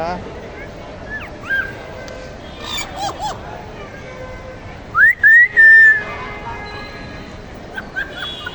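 A myna bird calls with whistled, wavering notes, one loud rising-and-falling whistle standing out amid softer chirps and quiet voices nearby.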